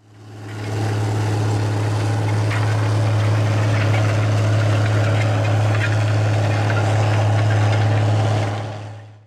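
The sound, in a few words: Case IH Steiger 480 Quadtrac tractor engine pulling a disc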